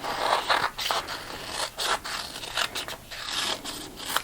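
Scissors cutting around a printed vinyl sheet for a DIY Cricut wedding craft, with steady crisp snipping and scraping strokes close up, a run of repeated cuts with short pauses and no talk.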